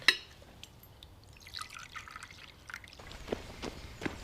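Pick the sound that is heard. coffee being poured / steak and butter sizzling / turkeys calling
coffee being poured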